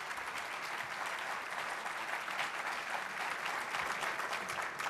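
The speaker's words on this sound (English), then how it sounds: "Another round of applause for our great mayor." Steady audience applause greeting the mayor at a State of the County address, continuous clapping from a crowd held at an even level throughout with no talking.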